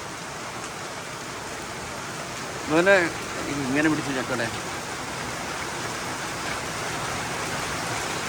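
Steady rain falls outside a house, a soft continuous hiss filling the scene, while a person speaks briefly over it to a pet dog.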